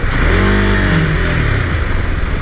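A motorbike engine drones steadily at 4,500 to 6,000 rpm while cruising on a long solo highway ride. The hum is loud, close and continuous, with a faint pitch sweep and no voices.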